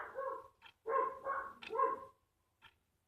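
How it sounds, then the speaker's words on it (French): Neighbouring dogs bark from some distance, a series of muffled yaps and barks in uneven bursts followed by a brief pause and one last faint yip. "j'ai mes voisins qui ont des chiens, donc les chiens ils gueulent tout le temps"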